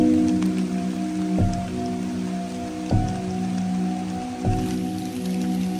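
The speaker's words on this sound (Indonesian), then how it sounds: "Hujan kembali turun dan memperlambat gerak kami." Steady rain falls on a mountain trail on Gunung Agung in Bali, a dense even patter close by, broken by a few soft thumps and drips.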